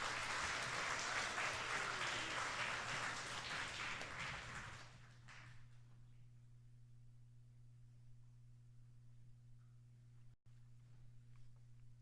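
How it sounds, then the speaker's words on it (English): An audience at a 2018 school academy spelling bee applauds loudly for about five seconds, then the clapping dies away to quiet room tone. "Give them a round of applause."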